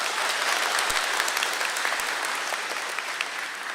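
Audience at a stand-up comedy open mic show applauding steadily, a dense continuous clapping that holds at even loudness throughout with no talk over it.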